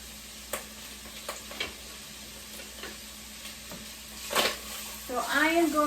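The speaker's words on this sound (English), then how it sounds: "So I am going to just get this sauteing in here." A medium yellow onion sautés in a pot for white chicken chili, giving a soft, low sizzle with scattered stirring clicks, followed near the end by a louder scrape and a brief spoken voice.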